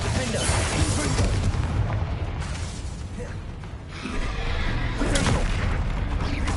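Confringo explosive spell blasts go off in rapid succession during Hogwarts Legacy combat, loud rumbling booms and bursts layered over one another in a continuous dense roar, with brief quieter dips between volleys.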